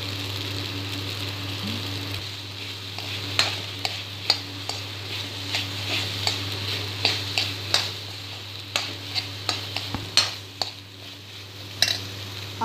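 Sauce goes into pasta cooking in a pan for cheese pasta, with soft intermittent clicks and spoon taps against the pan over a steady low hum.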